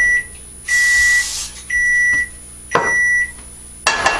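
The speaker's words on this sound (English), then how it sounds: "I can barely hear myself over the microwave" A microwave oven beeps repeatedly in a kitchen, steady mid-high tones of about half a second each sounding four times with short gaps, loud and close, mixed with brief bursts of hiss.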